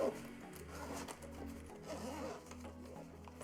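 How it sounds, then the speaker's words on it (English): A zipper drawn slowly along a hard clamshell Microsoft Surface Headphones 2 case, with a soft ragged rasp under a low mechanical hum and a faint voice. "The zipper."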